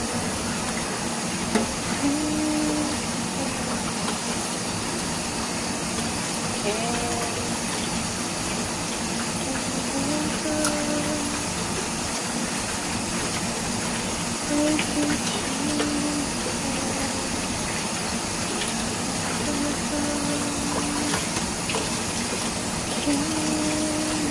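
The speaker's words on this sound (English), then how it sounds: "We need that yucky water to drain out." Dirty water drains steadily from a kitchen sink, a continuous rushing flow that holds the same level for the whole stretch, with no talk.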